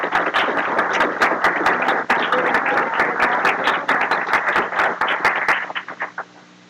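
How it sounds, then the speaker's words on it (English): A round of applause at an annual award ceremony dinner, loud close clapping from a modest crowd with distinct individual claps, sustained and then tapering off into silence near the end. "Give them a round of applause, please."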